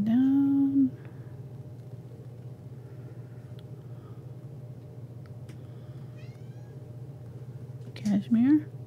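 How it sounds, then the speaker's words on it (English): A pet cat meows twice indoors, a long drawn-out call at the start and a shorter pair of mews near the end, over a steady low rumble with faint talk. "Kitty cat. She wants to see the lion."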